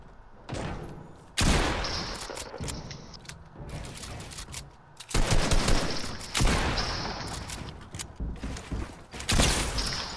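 Automatic gunfire in the Fortnite video game: loud, dense bursts of rapid shots that stop and restart several times across the stretch, with faint voice chat underneath.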